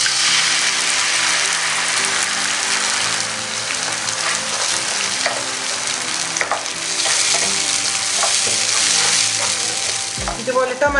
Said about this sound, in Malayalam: ടൊമാറ്റോ ചേർത്തതിന് ശേഷം ഒരു 5-6 മിനിറ്റ് നമുക്ക് ലോ മീഡിയം ഫ്ലെയിമിൽ വെച്ച് ഇതുപോലെ ഒന്ന് വഴറ്റിയെടുക്കാം